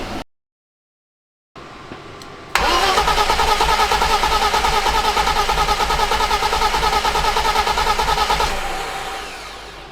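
A low-mileage M20B25 engine in a BMW E30 fires for its first start after a brief crank, then settles into a loud, steady, slightly lumpy idle that runs for several seconds before easing off a little.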